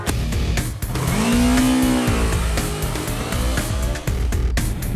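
A Yamaha R3 motorcycle runs on the Phillip Island track, its engine loud and close, winding up through a rising whine and shifting pitch with brief dips as gears change.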